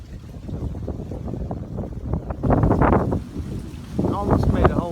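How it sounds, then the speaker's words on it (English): An outdoor gust of wind buffets the microphone in uneven rumbling bursts that swell and fade over a few seconds, with someone talking over it. "this little gust of wind"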